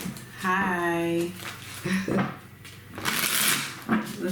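Tarot cards are shuffled in quick riffling bursts near the microphone, with a voice making a sustained vocal sound early on.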